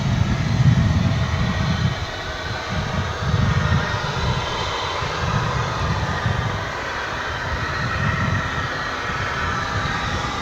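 An airliner touching down on runway 18 Right at DFW International Airport, a steady low engine roar with surging rumble lasting throughout, fairly close and loud with no talk over it.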